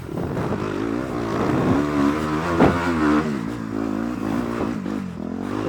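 A Kawasaki KX 250 dirt bike engine revs close by, its pitch rising and falling in a few surges over a steady buzzing drone.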